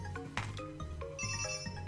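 Phone ringing with a melodic ringtone, repeating tonal notes at moderate level blended with busy video game music from Kirby's Return to Dream Land.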